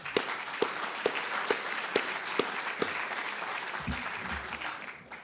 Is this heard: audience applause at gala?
yes